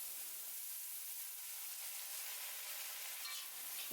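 Cooked vegetables tossed in a pan with salt, chili sauce and soy sauce for Indian-style vegetable fried rice, a steady soft sizzle with light scraping and stirring throughout, no talking.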